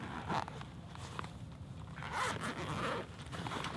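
A zipper runs along the carrying case of a Cobb Kitchen In A Box grill, with a few close, rasping pulls and handling noise, no talking.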